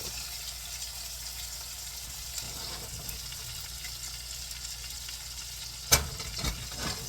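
A steak sears in a hot pan with a steady, quiet sizzle that holds evenly throughout, broken near the end by a sharp clack and a few brief knocks of the pan.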